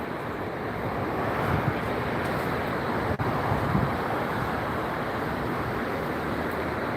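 Steady, rushing wind buffets the microphone on a cold, damp day at Los Angeles International Airport, a constant broad roar with slight gusts and one brief dropout, no voices.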